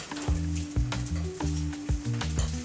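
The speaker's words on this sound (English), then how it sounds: "Baste the top of the egg yolk with the hot olive oil." Egg frying in hot olive oil as it is basted, a steady close sizzle broken by repeated spoon scrapes and oil splashes, with a low pan hum underneath and no talking.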